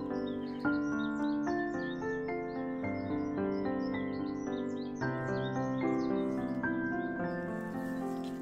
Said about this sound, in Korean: 능선길에 이렇게 새소리.